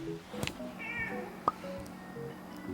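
Several cats meow in short, scattered calls by a wind-damaged catio, close and fairly quiet, with people talking softly among the meows.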